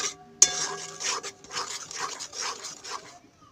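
A spoon stirs masala and chili powder around a pan for matki curry, making repeated scraping and rubbing strokes against the metal, close and moderately loud, opening with one sharp clank.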